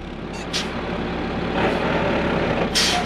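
A loaded dump truck pulls away from a basement dig site, its diesel engine rumbling steadily with short hisses of air brakes and rattles as it drives off.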